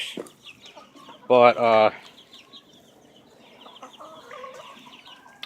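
Backyard chickens cluck softly and sporadically in a quiet farm setting, with one loud, brief burst of squawking from a hen, while someone says a single word.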